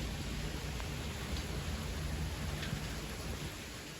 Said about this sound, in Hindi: ओहो, बारिश काफ़ी तेज़ हो रही है।